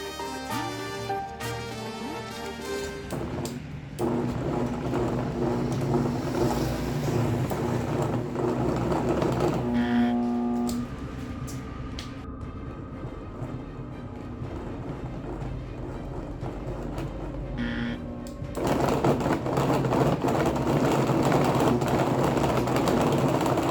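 A homemade rotary engine runs steadily with a loud, continuous mechanical drone that rises and shifts in pitch over time, with brief surges near the middle and end.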